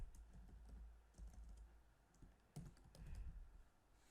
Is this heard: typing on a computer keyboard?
yes